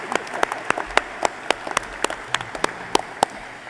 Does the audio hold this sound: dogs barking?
no